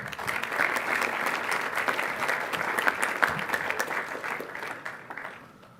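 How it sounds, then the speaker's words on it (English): At an eighth-grade class day ceremony, a crowd applauds an advisory group with a sustained wash of many hands clapping, steady throughout before tapering off at the close. "Let's have another round of applause for Mr. LaCroix's advisory."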